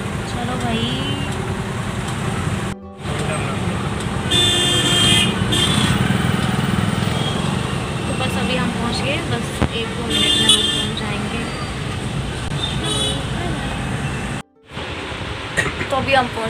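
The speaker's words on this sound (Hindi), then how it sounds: "चंडीगढ़ का ट्रैफिक।" Busy city traffic in Chandigarh, with car and motorcycle engines and repeated horn toots rising over a steady roadway roar, heard close and loud from within the flow; speech is briefly present.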